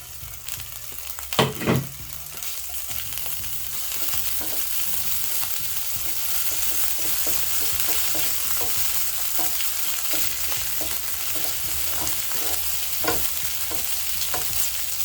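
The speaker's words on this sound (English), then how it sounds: "I'll go in with about a tablespoon of cooking oil. Then once that is also hot, I'll add in my ginger." Ginger frying in hot cooking oil in a pan, a steady loud sizzle with a sharp stirring clatter near the start and a few more light scrapes later, no talk.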